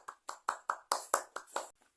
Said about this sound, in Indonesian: Beri tepuk tangan dulu dong untuk kita semuanya